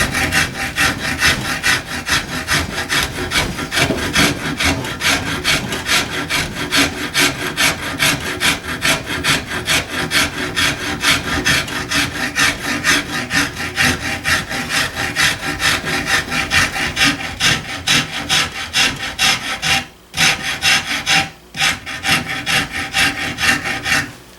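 A rasp files steadily along a wooden gunstock in close, loud, rhythmic strokes, with two brief pauses near the end.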